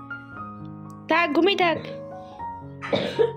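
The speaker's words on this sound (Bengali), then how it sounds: "কাশি হচ্ছে প্রচুর পরিমাণে।" A child coughing indoors at home, a short burst of coughs near the mic followed by another cough a moment later, over a quiet background hum.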